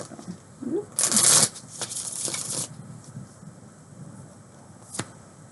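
A deck of tarot cards is shuffled in a few quick riffling bursts close by, followed by quieter handling and a single sharp tap of the cards near the end.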